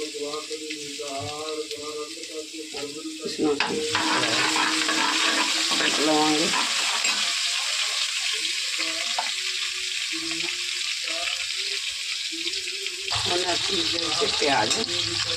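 Garlic and spice masala roasting in a pan with a splash of water for a capsicum and potato curry, loud continuous sizzling and hissing with a few stirring sounds, close up, with a voice talking over parts of it.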